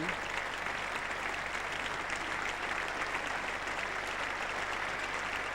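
Cricket crowd at The Oval applauding a 100 partnership during an England v Australia Test match in 1981, steady distant clapping spread evenly across a large ground, faint and continuous throughout.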